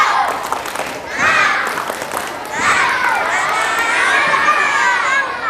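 A group of children shouts and chants loudly together in an Indonesian Quran-reading class chant, with bursts of clapping mixed in, energetic and close.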